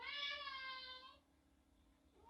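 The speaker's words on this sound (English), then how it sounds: "The cat's already letting me know what he thinks about all of this" A cat lets out a single clear meow, bright and slightly nasal, lasting about a second before fading into quiet room tone; the sound is moderately close but soft overall.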